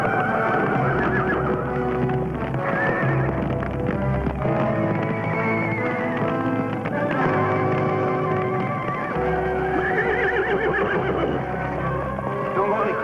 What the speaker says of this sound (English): Me and Rex will get the horses out.